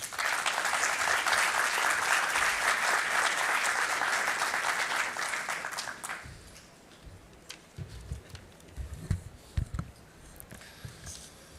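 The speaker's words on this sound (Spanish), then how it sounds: "el señor Alejandro Garland Stromdorfer, para quien pido un fuerte aplauso." Loud, dense applause from an audience at the opening ceremony of the EXCON 2024 construction exhibition, sustained for about six seconds before thinning into scattered claps and fading out.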